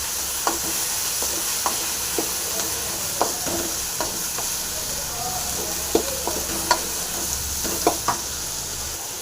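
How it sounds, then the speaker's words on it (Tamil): Coriander, ginger and curry leaves fry in a pan with a steady sizzle. Scattered scraping clicks from stirring rise above it, close and continuous. "இதையும் போட்டு நல்லா வந்து ஃப்ரை பண்ணிக்கலாம்"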